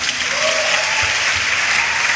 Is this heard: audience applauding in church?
yes